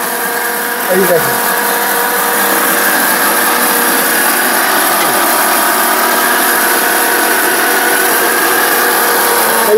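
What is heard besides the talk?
electric blender running at speed 3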